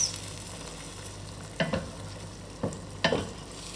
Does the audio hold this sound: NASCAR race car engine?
no